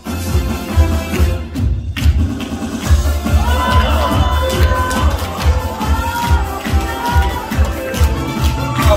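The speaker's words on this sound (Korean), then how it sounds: "박수 오세요" A crowd at a singing contest preliminary round in Pyeongtaek cheers and claps loudly and continuously, a dense roar of applause and shouts close around the listener, with voices calling out within it.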